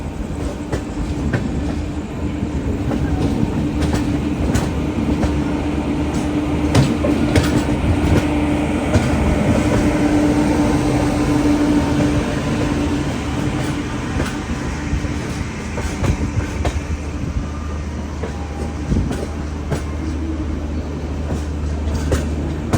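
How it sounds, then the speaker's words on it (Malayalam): A Mumbai AC local train rumbles past at a platform, a loud continuous roar of wheels and carriages with rhythmic clickety-clack running throughout. "മുംബൈ AC ലോക്കലാണ് അവിടെ കാണുന്നത്"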